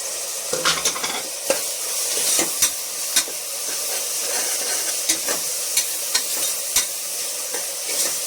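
Ginger garlic paste fries in a pot for goat leg pulusu, a steady close sizzle and hiss broken by sharp scrapes and taps of a spoon stirring against the metal, with no speech.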